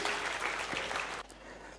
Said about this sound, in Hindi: जोरदार तालियां बजाकर उन बच्चों की हिम्मत अफजाई करिए।